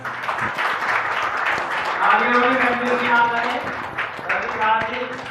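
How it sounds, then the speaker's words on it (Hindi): A crowd at a Diwali-season community savings society event in India claps steadily through a welcome for guests, while a voice and chatter carry over the sustained applause. "सभी से अनुरोध है तालियां बजाते रहें।"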